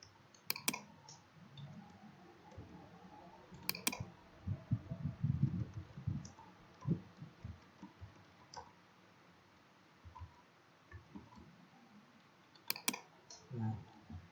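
A computer mouse clicks while working with the pen tool in Photoshop, sharp isolated clicks spaced irregularly, some in quick pairs, faint and close against low background rustle and thumps, with no talking.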